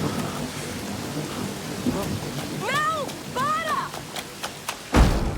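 Heavy rain pours steadily in a film scene during a historic storm, with a thunder thump near the end, while a voice speaks and wavering tonal sounds rise over the downpour.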